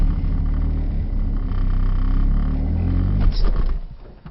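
A 2005 Lotus Elise sports car idles with a steady low rumble, then its engine note shifts and swells briefly as it begins to roll before fading away.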